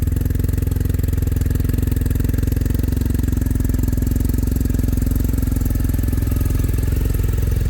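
A 2023 BMW M 1000 RR motorcycle engine runs steady and loud just after firing up, a dense, fast-pulsing mechanical drone heard close with no voices over it.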